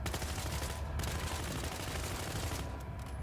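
Gunfire in the Battlefield Hardline beta, a thick, continuous barrage of shots at a steady level throughout, with no voices.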